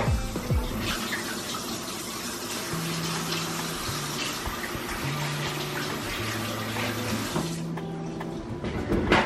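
A kitchen sink tap runs steadily as hands are washed after handling raw steak, a loud continuous close-up rush of water with a faint hum under it and no speech.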